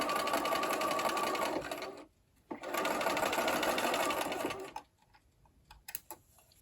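A sewing machine stitches fabric squares along a marked line using red thread, running in two close, steady bursts separated by a short pause, followed by scattered light clicks and handling noises.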